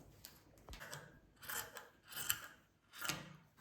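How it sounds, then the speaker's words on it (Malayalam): Scissors cutting a piece of fabric for a sewing project, a few crisp snipping strokes spaced about a second apart, close and quiet with no talk. "എന്നിട്ട് നമുക്ക് ഈ പീസ് കട്ട് ചെയ്തെടുക്കാം."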